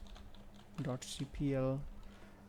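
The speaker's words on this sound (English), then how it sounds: "just press the Windows button on the keyboard and type appwiz.cpl" Brief clicking of keys on a computer keyboard while typing a command in Windows 10, close and fairly quiet, mixed with a short voice-like tone.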